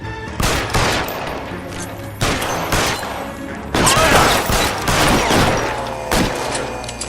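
Gunfire in the video game L.A. Noire: loud bursts of rapid shots come in several clusters separated by brief gaps, with rumbling game sound under them and a faint voice in the background.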